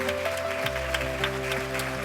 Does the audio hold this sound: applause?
yes